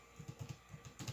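A short run of about ten quick, light keystrokes on a computer keyboard, close and fairly quiet, with a pause before a final pair of taps.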